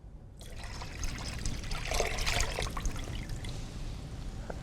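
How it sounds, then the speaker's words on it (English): Water is poured into a pot of homemade ramen broth, a steady trickling, splashing stream that swells and then settles into a softer dribble, close up with no talking. "Do you want to pour that in there with the broth for me?"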